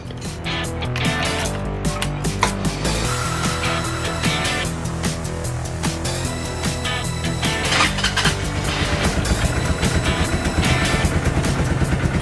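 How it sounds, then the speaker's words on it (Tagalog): A motorcycle engine starts and runs at a steady idle during an oil change, a continuous loud rumble with regular low pulsing and no talk over it. "Okay, so start natin yung motor."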